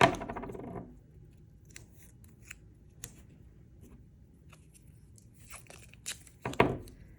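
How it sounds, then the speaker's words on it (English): Painter's tape is pulled and pressed onto paper for an art project, with a loud ripping tear at the start, small scattered ticks and crinkles through the middle, and another sharp tearing burst near the end. "you'll tape it down using the painter's tape"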